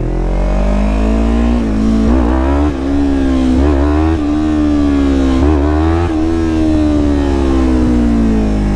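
Yamaha R3 motorcycle engine revving hard through repeated throttle blips and rising pulls during power wheelies, loud, close and continuous with a strong harmonic whine, no talk.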